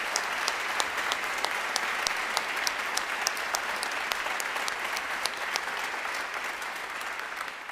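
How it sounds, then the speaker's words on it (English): Sustained applause from a large audience at a brass band championship, a steady dense clatter of clapping hands with a few sharper claps standing out, loud and close throughout. "Can we give a round of applause please to all the soloists?"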